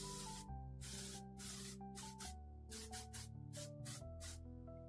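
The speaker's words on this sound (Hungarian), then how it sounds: "most fogom ezt a kis sprayt, és először a szemrészt, az arcközepet és a szájat is le fogom vele fixálni" Repeated short bursts of makeup setting spray misted onto a face, about a dozen hissy puffs in irregular rhythm over a steady tonal background, close and fairly quiet.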